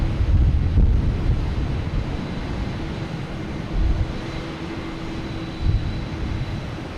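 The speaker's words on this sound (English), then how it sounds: "We have someone taking off here. It's like WestJet." A WestJet airliner takes off at Boston Logan Airport, with a broad low engine roar rumbling at a distance under gusty wind noise on the microphone and no talk.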